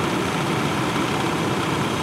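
A 1998 GMC Jimmy 4x4 engine idles steadily and evenly, a close, continuous rumble with a dense broadband wash and no talk over it.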